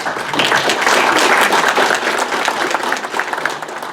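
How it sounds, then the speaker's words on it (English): Loud, dense applause from a large crowd, a continuous wash of clapping that holds steady throughout. "give him a big round of applause, please."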